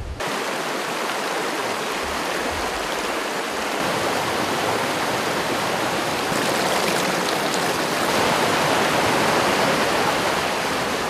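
Mountain streams in the Western Tatras, Roháče, rush close by in a continuous, loud, even wash of flowing water that swells slightly over time, with no voices.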